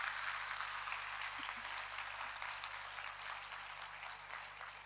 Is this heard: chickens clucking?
no